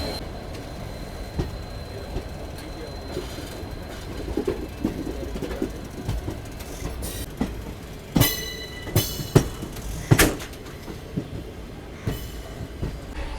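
Inside an ICF chair car of the Bhubaneswar–Visakhapatnam Intercity Express, a continuous rumble of the moving train carries rattling and clicking, with several louder knocks and clanks near the end.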